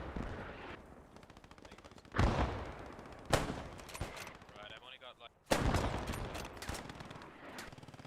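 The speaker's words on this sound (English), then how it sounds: "You can see that MG firing straight through this hole here." Machine-gun bursts from a Post Scriptum battle, firing blind through smoke amid mortars, come in several loud, sharp volleys with quieter rattling gunfire between them, no talking.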